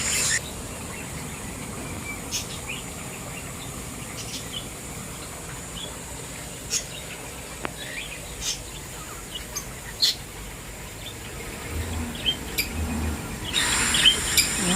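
Lovebirds chirp in scattered, sharp bursts in a garden against quiet ambient noise, growing busier and louder toward the end.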